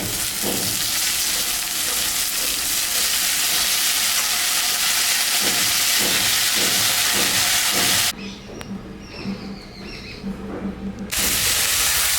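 Dhenki fern greens tossed into potatoes and ridge gourd frying in a pan, a loud hissing sizzle with rhythmic stirring scrapes, briefly quieting as the greens go in before the hiss surges back.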